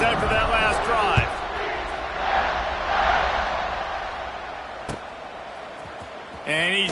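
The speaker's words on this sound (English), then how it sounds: "this crowd is feeling themselves after that last drive." A football stadium crowd roars after a scoring drive, a broad sustained cheer that swells and fades under a play-by-play announcer's voice, with a few sharp thuds and a louder burst of crowd noise near the end.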